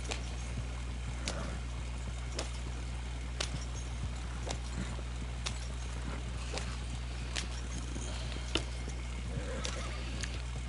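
Steady clip-clop of horse hooves drawing a wagon in Red Dead Online, evenly spaced light thuds over a low constant hum, with occasional faint talk.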